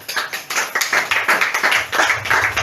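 A church congregation applauds in praise of Jesus, a quick burst of rhythmic clapping that keeps a lively, fairly even beat for a couple of seconds.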